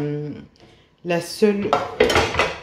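Metal cookware clanks and scrapes up close, a few bright knocks and rattles of pots and pans being moved around.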